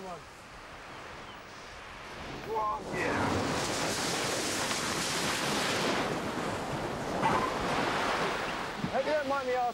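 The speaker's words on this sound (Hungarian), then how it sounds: "Tarajosak a hullámok." Sea waves surge and break loudly on a shore as a fishing boat is launched into the surf for mackerel, a steady roar of rushing water with wind noise and brief voices at the start and end.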